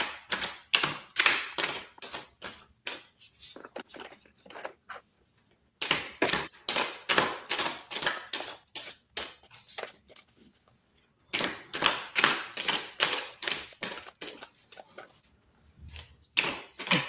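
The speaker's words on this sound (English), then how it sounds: "I love the sound of shuffling." Rapid bursts of crisp riffling clicks, like cards being shuffled, repeated in three long rounds with short pauses between, close and fairly loud.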